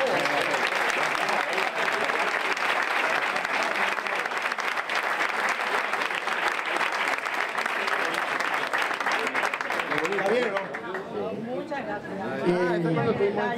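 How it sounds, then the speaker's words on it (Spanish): Audience applause at the inauguration of Los Mellizos in Fuengirola: dense, steady clapping that fills the room for about ten seconds, then thins out as voices and chatter rise near the end. "Un aplauso,"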